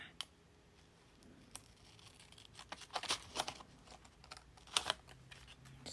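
Scissors cut fabric pieces for a cardinal bird craft, making a few close, crisp snips and rustles in short clusters against a quiet background, with no talking.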